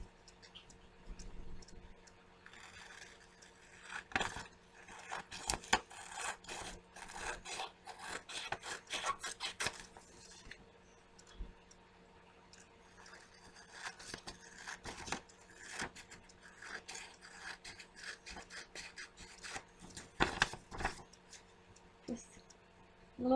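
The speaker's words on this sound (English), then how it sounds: "Now all you have to do is just cut out where you traced." Scissors cut out a traced shape for a rug makeover, making soft rasping snips and rubbing scrapes in uneven bursts close by, with quiet pauses between them.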